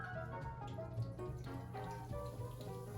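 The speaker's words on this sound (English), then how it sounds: "And then we're gonna put in our sparkling water." Sparkling water poured into gluten-free fish batter with vodka, a soft continuous trickle and fizz close by, fairly quiet and without talk.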